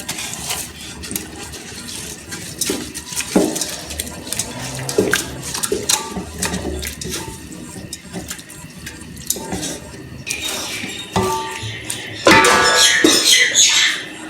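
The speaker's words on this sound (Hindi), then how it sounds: "इसके अंदर चावल डालेंगे" Dry rice is poured onto carrots in a cooking pot and stirred, giving irregular scrapes, rattles and bursts of clatter that grow louder near the end.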